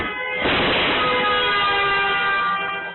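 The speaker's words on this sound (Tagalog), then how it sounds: "Biglang may malakas na kalabog at busina." A vehicle horn blares loudly on the Maharlika Highway in San Rafael, Bulacan, at night, one sustained harsh tone lasting about two and a half seconds, close by.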